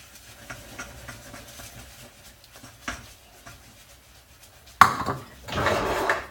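A spoon stirs oats in a pot with soft, scattered scrapes and taps, then a sharp knock and a louder burst of scraping near the end.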